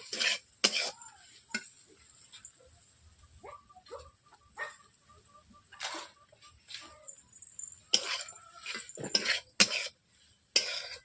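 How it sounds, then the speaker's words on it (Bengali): Mixed vegetables of beans, potato, eggplant and carrot stirred in a little oil in a pan, heard as intermittent scraping and clattering strokes with a soft sizzle between them, fairly close. "তেল দেওয়ার পর এইভাবে আমি 1 মিনিট নেড়ে নিচ্ছি"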